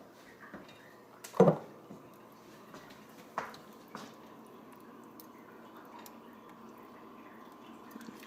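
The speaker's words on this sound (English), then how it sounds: "So now let's add our butternut squash puree." Thick butternut squash puree drops into a pan while vegan queso is made, landing with one soft, wet plop followed by a few quieter dabs and scrapes in a quiet kitchen.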